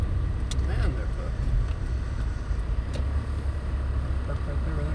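A car rolling up and stopping on a city street in Bakersfield, California at night, its low engine rumble steady beneath nearby talk and scanner chatter, with general traffic noise around.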